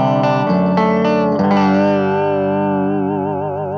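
Guitar through a cheap chorus pedal with its vibe switch on: a few picked notes and a strummed chord ring out, then sustain with a deep, wobbling pitch modulation, loud and close.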